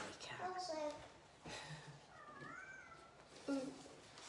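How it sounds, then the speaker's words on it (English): A cat at a window meows several times, rising and falling mews that are faint and somewhat distant, mixed with quiet talk in the room. "Sounds like your pussycat."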